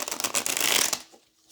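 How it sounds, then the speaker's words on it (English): Tarot cards being shuffled up close: a dense, papery riffle lasting about a second, then a quick fade to silence, with no voices over it. "let's get this last shuffle"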